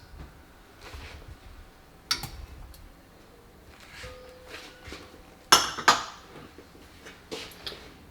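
Batter with egg yolks being mixed in a bowl for an apple pie, with sparse utensil clinks and scrapes against the bowl, a few sharper knocks, and quiet gaps between strokes.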